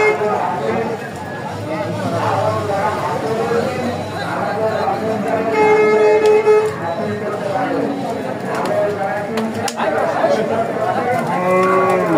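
Cattle moo repeatedly at a busy livestock market at Aricha haat in Manikganj, long low calls overlapping under constant crowd chatter and bargaining voices, with loud, dense background noise throughout.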